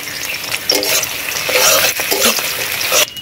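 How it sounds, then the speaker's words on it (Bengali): Thick-cut onions fry in hot oil, a loud bright sizzle broken by scraping stirs and sputters, close by with no voices. "পেঁয়াজ হালকা লাল লাল করে ভাজা হয়ে গেছে"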